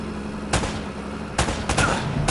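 Gunfire in the video game Uncharted: several sharp, loud shots burst out at uneven intervals over a steady background of game noise, with two shots landing close together near the end.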